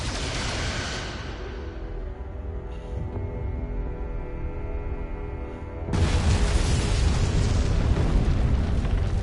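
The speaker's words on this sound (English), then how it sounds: "Firing photon torpedoes." Photon torpedoes fire and explode in a space combat video game: a low droning hum gives way to a sudden loud, sustained roaring blast about two-thirds of the way through.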